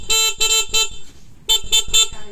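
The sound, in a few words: motorcycle horn honking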